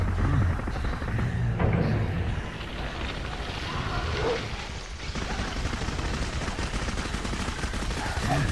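Dense, sustained gunfire rattles in the video game Clive Barker's Jericho, continuous rapid shots layered with explosive crashes, loud and steady throughout.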